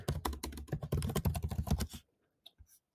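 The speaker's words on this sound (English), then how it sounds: "And then start typing here." Rapid typing on a computer keyboard, a dense run of close, crisp key clicks for about two seconds, then a pause and a few scattered final keystrokes.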